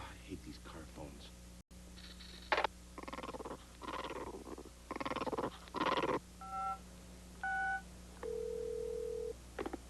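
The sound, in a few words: car phone dialing tones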